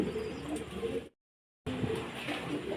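Giribaz or Golla pigeons coo in a low, soft rhythm around a brief silent gap, with faint background voices mixed in.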